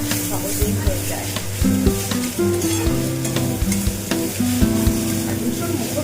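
Prawns sizzle and fry with radish in a pan for a Bengali dish, a steady loud hiss with occasional stirring scrapes and clinks throughout.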